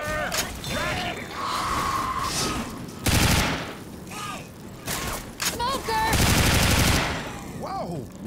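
Rapid automatic gunfire in the video game Left 4 Dead 2, with repeated bursts of shots mixed with game sound effects and character voices, loud and close.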